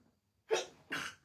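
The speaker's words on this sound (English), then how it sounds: "I'm going to sneeze." A single quiet sneeze: a sharp intake followed by a two-part burst of breathy noise, close, in an otherwise silent room.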